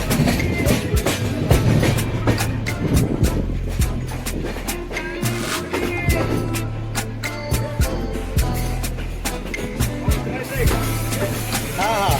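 A train arriving at Kasara railway station rolls along with rhythmic clickety-clack of wheels over rail joints, a loud steady rumble and occasional squeals as it slows.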